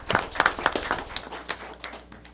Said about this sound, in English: I'd like to give them a round of applause for as good a job as they do